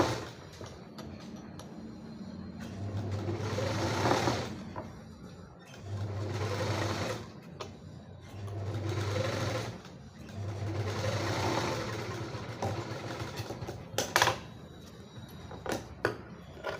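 A sewing machine stitches a blouse in several bursts of rapid whirring, each a few seconds long with short pauses between, ending in a few clacks and handling knocks, no talking.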